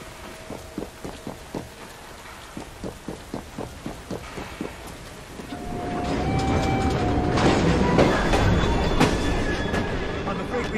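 Train running in the Assassin's Creed Syndicate video game, first a regular clacking rhythm of wheels over rail joints, then a loud steady rushing rumble with high squeals as it speeds along.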